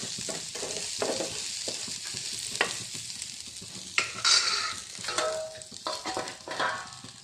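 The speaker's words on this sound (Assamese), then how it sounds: "মই 3 মিনিটমানৰ পিছতে আকৌ এবাৰ লৰাই দিছোঁ" Jackfruit seeds cooking in a pan, stirred with a spatula: soft hissing sizzle with scattered clacks and scrapes that grow busier toward the end, close up and without talk.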